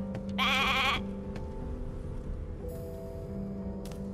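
A sheep in the video game Divinity: Original Sin 2 bleats once in a short wavering cry over a steady low hum, then only the quiet background remains.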